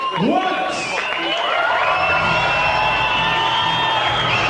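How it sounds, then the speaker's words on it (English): A big crowd at the Sydney Convention Centre cheers, whoops and applauds a kickboxer's entrance at a 1996 professional bout, with loud shouts rising over a constant roar. "the big crowd stand and applaud the arrival of the feature attraction"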